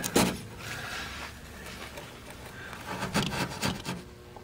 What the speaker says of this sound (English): An initial scrape and just a quick wire brush at this point.